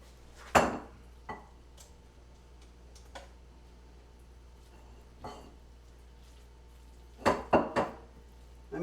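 A utensil clinks against a dish while baked pasta and cheese is stirred, giving a few sharp scattered knocks and a quick cluster near the end, fairly close over a quiet room hum.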